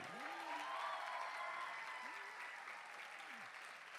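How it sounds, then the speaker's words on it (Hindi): Sustained applause from a concert audience after a musical stage performance, dense and steady clapping that fills the whole stretch at an even level, with faint vocal sounds drifting through. "जोरदार तालियां होनी चाहिए"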